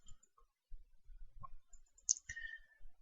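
Computer mouse clicks while working in Revit CAD software: a few small, sharp clicks spread over about three seconds, near and quiet, with no talking.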